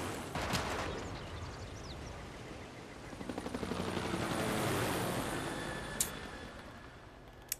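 Helicopter unit in Civilization VI attacking pikemen: a steady whirring rotor drone that swells in the middle, with scattered bursts of gunfire and a couple of sharp impacts near the end, no talking.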